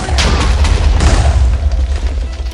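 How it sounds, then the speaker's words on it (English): A loud, rumbling explosion from a crafted TNT-and-iron bomb in Minecraft's More Explosives mod, a deep sustained boom with crackling bursts that fills the whole stretch at high volume. "That was the bomb, everybody."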